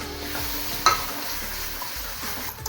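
Onion paste and spices hit a hot pan with curry leaves while a black-eyed pea dish is cooked, producing a steady, close sizzle and frying hiss with a brief louder crackle.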